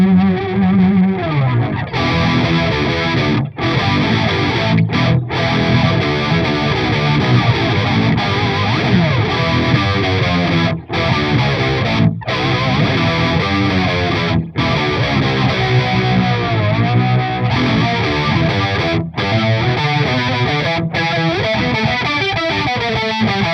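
Electric guitar played through a Boss MO-2 Multi-Overtone pedal on its third, lower-overtones setting: a thick, shimmering, chorus-like distorted tone with sustained chords and short gaps between phrases, loud and steady with no voices.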